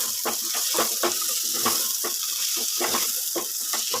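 Garlic, green chillies and tomato sautéing in a pan for beef curry, a steady hiss and sizzle with soft irregular crackles throughout.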